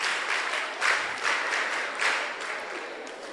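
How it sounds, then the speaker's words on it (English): Applause from a group of girls at the close of a mentorship session, a steady wash of clapping that swells in a few waves and holds throughout without talk. "clap for yourselves once again"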